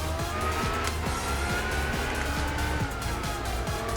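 Race car lapping in Gran Turismo 4 at night, engine revving through repeated gear shifts with tire squeal, steady and fairly loud with no talking.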